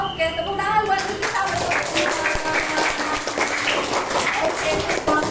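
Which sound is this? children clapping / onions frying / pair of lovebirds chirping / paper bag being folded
children clapping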